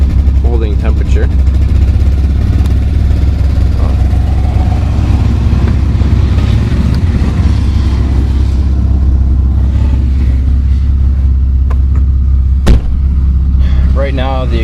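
A Jeep WJ engine idles without a muffler, its exhaust cut off right behind the catalytic converter, giving a loud, steady low rumble that runs unbroken throughout, with a brief sharp pop near the end.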